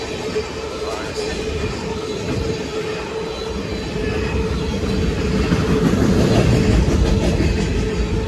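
CSX freight train M634 rumbling past at Sturgeon Point Road in Derby, New York, a loud, steady roll of wagons with clattering wheels that swells slightly toward the end.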